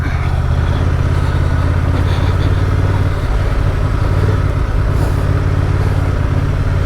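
A Honda Transalp 750 adventure motorcycle rumbles steadily through soft mud on a trail, a continuous low engine drone close to the rider with no talking.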